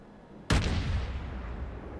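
A single loud naval gun blast in World of Warships, a sudden booming report followed by a long rumbling decay.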